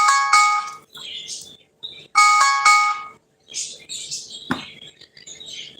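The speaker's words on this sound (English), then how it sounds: "That's my alarm for me to start cooking dinner." A phone alarm ringtone set as a reminder to start cooking dinner, bright chiming tones sounding in two short bursts, close and loud, followed by rustling and handling noise.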